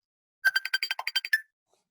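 A cell phone rings during a community lunch: a quick run of about a dozen bright electronic beeps in a short melodic burst, fairly faint and alone, then silence.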